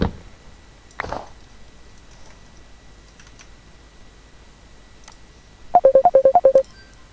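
A telephone ringtone sounds during a call after some keyboard typing and clicks, as a quick burst of about eight clear electronic pulses near the end.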